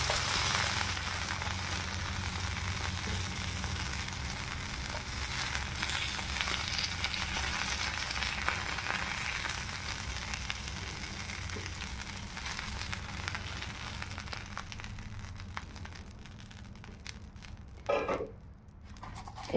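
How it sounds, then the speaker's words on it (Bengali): Fish sizzles in hot oil for a Bengali macher jhal, with a constant close crackling fry that eases and thins toward the end, and no voices. "মাছগুলো আমাদের ভাজা হয়ে গেল।"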